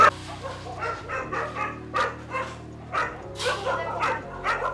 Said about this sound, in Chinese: 因为全部是狗叫声